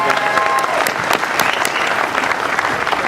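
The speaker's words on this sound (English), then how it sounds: "you should all give yourselves a round of applause." Steady applause from a crowd at a political rally, dense overlapping clapping throughout at a fairly loud level with a few sharper individual claps standing out.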